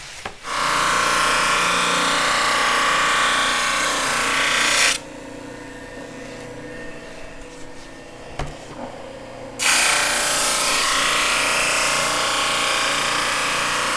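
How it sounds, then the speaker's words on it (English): A drum sander grinds across the wooden bottom panel of a box joint flower box in two loud, steady passes, with a quieter motor hum and a few knocks in between. "we're going to run this through the drum sander first"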